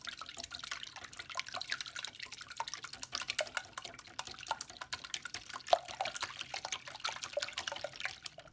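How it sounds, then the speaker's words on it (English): Two large eggs whisked together in a mixing bowl: a rapid, steady run of light wet ticks and clicks against the bowl, close and fairly quiet, continuing throughout without speech. "Crack 2 large eggs into a mixing bowl and whisk together for about 1 minute"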